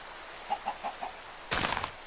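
Blocky Minecraft chicken giving a few short clucks in a soft, evenly spaced row, followed by a brief louder burst of flapping or rustling near the end; no talk.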